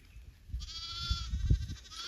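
A sheep bleats once in a grassy pasture on a farm where lambs are born in spring, a drawn-out wavering call heard close and alone over faint low rumble.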